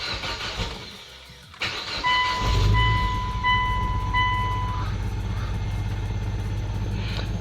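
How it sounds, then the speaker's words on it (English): A car engine in Kenya cranks, fires on a second attempt and settles into a rough, very low idle near 200 RPM, a steady rumble that carries on to the end after a brief lull and whine. "Now you see it's idling at barely 200 RPMs"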